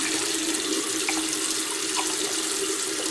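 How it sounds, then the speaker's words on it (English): A cup being rinsed under a running tap at a sink: a steady, close, continuous rush of water with slight splashing changes as the cup moves through the stream, no voices. "I'm going to rinse my cup"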